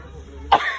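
A single short, sharp cough bursts out close by after a moment of quiet room tone.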